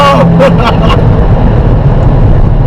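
A 2011 Mini Cooper S (R56) in sport mode fires off a quick run of sharp exhaust pops and crackles over a loud, close engine drone while driving at low speed, the bursts clustered early then fading into steady rumble.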